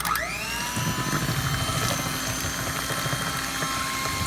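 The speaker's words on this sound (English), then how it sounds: "Start it up, and you want to high-speed blend this because remember we have fresh pumpkin in there" High-speed blender whirring through a fresh pumpkin pie mix, a steady loud motor whine that ramps up at the start and holds constant, with no talking over it.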